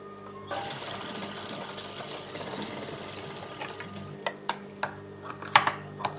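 A sewing machine stitching a lined churidar top runs steadily and quietly at close range, then stops, leaving a few sharp clicks and taps from handling.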